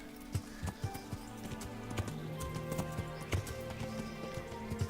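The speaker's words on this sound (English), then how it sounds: "Let's call our horse" Horse hooves clip-clop in the video game Kingdom Come: Deliverance, a quiet, irregular trotting patter against soft background game ambience.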